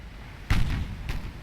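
Naval artillery shells fire in the warship game Ultimate Admiral Dreadnoughts: two heavy, booming gun reports about half a second apart, the first louder, each with a short rumbling tail, with no voices.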